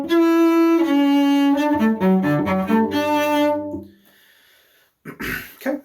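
Cello playing measures 21 to 24 of the Theme from Witches Dance in second position, a few seconds of sustained bowed notes in a stepping melodic line, close and clear, then fading to near silence before a brief breathy noise.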